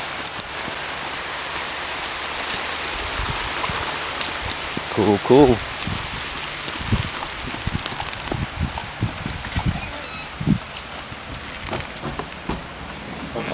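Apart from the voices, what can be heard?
rain falling in a garden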